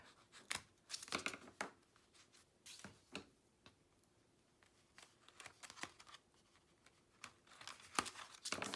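Adhesive tape is pulled loose with a pick tool while a page of an 8 x 8 paper mini album is held in place, giving sharp irregular crackling rips and crinkles scattered between quiet gaps, close and fairly clear, with no talk.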